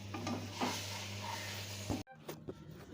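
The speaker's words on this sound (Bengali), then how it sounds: "এই আম গুড়ের ক্ষেত্রে কষিয়ে নেওয়াটাই মেন" Mango pieces are stirred and cooked down with jaggery for pickle, a scraping stir over a frying sizzle with a low steady hum beneath, cutting briefly before more faint stirring.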